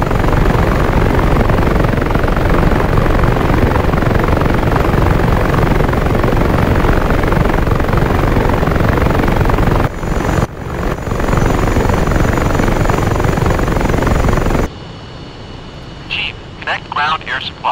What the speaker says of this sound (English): There's our recon helicopters going off to do a good job.